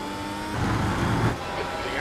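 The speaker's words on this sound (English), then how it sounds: "Don't know how empty and weird this car sounds." A race car engine in iRacing hums steadily with a hollow tone during a Suzuka Grand Prix, swelling slightly in the middle, with a voice talking over it.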